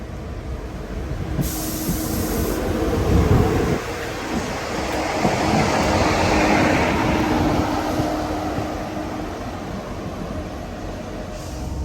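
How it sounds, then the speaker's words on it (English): Train running along a rural Devon branch line near Eggesford, a steady rumbling roll of wheels on track that swells in the middle and holds at moderate loudness throughout, with no voices. "So this is the last train for today."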